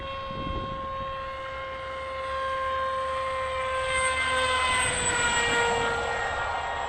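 A Teksumo RC flying wing with a blunt nose flies outdoors, its electric motor giving a steady high whine with harmonic tones that swells and shifts pitch as it passes, with a few soft nearby thumps.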